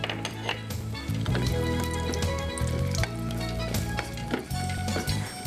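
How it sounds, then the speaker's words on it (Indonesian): Ingredients sautéing in a pan on a televised cooking show set give off a steady, loud sizzle and fry, with occasional clinks of a utensil stirring against the pan. "Tumis hingga harum"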